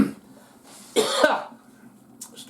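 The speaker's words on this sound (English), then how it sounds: "Still coughing like a good one." A man coughs indoors in a dining room, one harsh burst followed by a smaller catch and a further faint cough, heard close and alone against quiet room tone.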